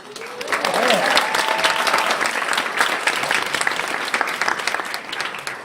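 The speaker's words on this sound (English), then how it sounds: "if you could all give them a round of applause" Guests at a wedding reception clap for the groomsmen in a sustained, dense round of applause that swells quickly and holds steady for several seconds, with a voice briefly audible at the start.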